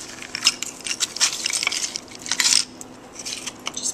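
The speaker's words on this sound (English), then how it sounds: "Fill the glass with crushed ice." Crushed ice is packed into a cocktail glass at a bar, making crunchy, scraping rattles and clinks in irregular bursts, close up and moderately loud.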